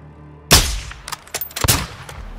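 A sharp, loud sniper rifle shot from the video game Call of Duty cracks out of near silence. A few lighter impacts and a second distinct report follow close behind.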